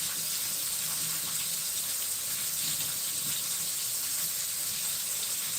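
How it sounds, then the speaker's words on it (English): Kitchen tap water runs steadily into a pot being filled with cooking water for rice, a continuous close hissing splash with no talking over it. "That's how I measure my cooking water."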